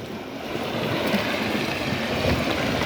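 River water from flooded fields pours across a washed-out road where a pipe runs beneath, making a steady, close rushing hiss mixed with wind noise and no voices.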